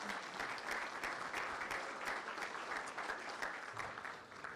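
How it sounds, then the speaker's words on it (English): A banquet crowd at a hall of fame ceremony applauds the caterers, steady dense clapping from many hands that holds for several seconds and then begins to thin. "if we can give a round of applause to Fresh Ideas for providing the meal"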